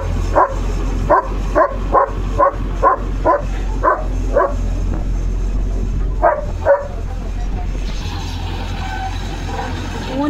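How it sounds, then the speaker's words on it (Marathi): German Shepherd barking at a road roller outdoors, a steady run of loud repeated barks at an even rhythm over a constant low engine rumble, with a couple more barks after a brief pause. "रोलरला भुंकतोय"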